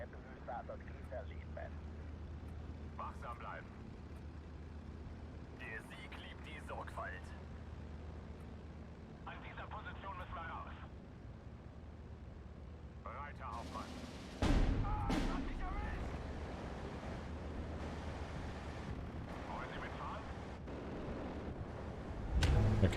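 Bombing and artillery in the strategy game Steel Division 2, with distant booms and a sharp close explosion midway followed by rumbling, over low battle ambience while someone talks intermittently.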